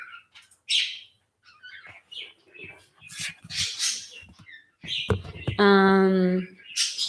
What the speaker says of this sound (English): Yeah, I've got 2 parakeets over here, a blue one and a yellow one.